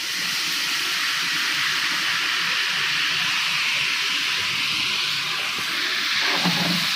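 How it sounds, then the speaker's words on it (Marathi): Green chili paste sizzles in hot oil after cumin and mustard seeds crackle for a catering-style dal tadka, a steady, loud broadband hiss throughout with a faint clatter near the end. "जिरे मोहरी चांगली तडकल्यानंतर त्याच्यामध्ये आपण टाकतोय हिरव्या मिरचीची पेस्ट"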